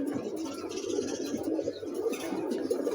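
A breeding pair of pigeons cooing close by, a soft continuous low burbling coo with no talk over it.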